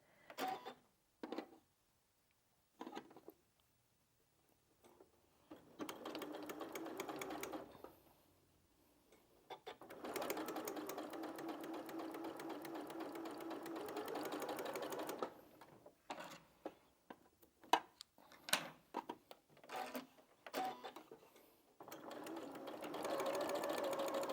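A sewing machine stitching small fabric side pieces for a quilt made from scraps, in rapid mechanical bursts of clattering stitches, some long and some short, separated by brief pauses and handling sounds.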